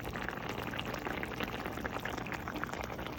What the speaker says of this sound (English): The gravy is getting thick. You hear that?